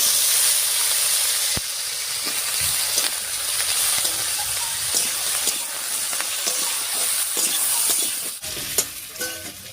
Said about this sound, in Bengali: এবারে কেটে রাখা পেঁপেটা দিয়ে দিচ্ছি